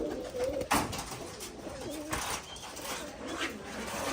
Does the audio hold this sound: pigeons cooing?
yes